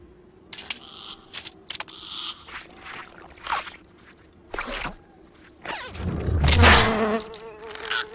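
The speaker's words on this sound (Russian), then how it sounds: "Муха." A cartoon housefly buzzes in short whining bursts that start and stop, then swells into a louder, closer drone near the end, with no talk over it.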